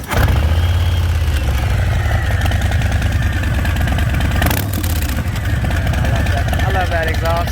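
A 2020 Harley-Davidson Low Rider S engine fires up and settles into a loud, close, rumbling idle that carries through the whole stretch. Someone talks over the engine.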